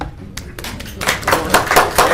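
Scattered claps at a city council meeting swell into louder applause from a small crowd, the first second sparse and quiet before clapping builds and continues near and fairly loud.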